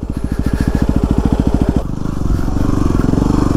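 A Yamaha WR250R dirt bike thumps out a rapid, loud engine pulse up close during wheelie practice at Carnegie SVRA, its rhythm shifting partway through as the throttle changes.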